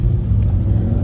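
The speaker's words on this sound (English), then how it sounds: "Oh, car coming." A car rushes past, heard from inside a 2018 Mercedes-AMG E 63 S station wagon as a steady, loud low rumble over the cabin's own engine drone, with no talk.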